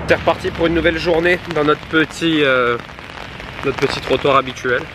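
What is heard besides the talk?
rain falling on a sidewalk in Singapore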